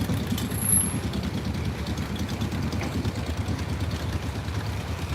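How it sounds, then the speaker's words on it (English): A 1958 420S tractor rolls past in an antique tractor parade, its engine chugging steadily at close range with a low, even rumble and no talk over it. "still a Princeton tractor. A 420S right here, 1958 version"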